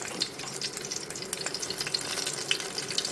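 Tomatoes hitting hot oil in a pan for a home-style egg masala curry, giving a steady close sizzle and frying crackle with faint stirring, no voices.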